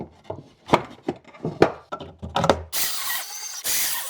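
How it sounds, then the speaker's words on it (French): Wooden pieces screwed together while building a kitchen, a close series of sharp knocks and scraping wood-on-wood rubs, then a louder steady whirring burst near the end like a power driver. "Hop, pareil, je les visse."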